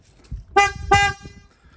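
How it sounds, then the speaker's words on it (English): Two short horn honks from a Chevrolet Spark with a Wolo BadBoy replacement horn, loud and close, the second following quickly after the first, with faint low rumble underneath. "I'll let you guys hear how loud the horn is in this car."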